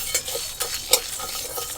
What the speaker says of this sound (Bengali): শুকনো লঙ্কা, গোটা জিরে, গোটা ধনে, মৌরি, সমস্ত মশলা একটু লাল লাল করে ভাজবো